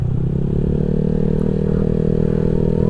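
A Honda Vario 150 scooter fitted with a Black Devil aftermarket exhaust runs loud and close, a steady throaty engine drone with a faint rev lift and slight clatter, no voices over it.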